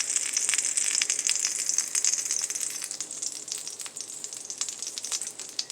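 French toast sizzles steadily in a hot pan after flipping, a dense continuous crackle with fine spitting pops, loud and close, slowly easing a little in intensity, with no voices.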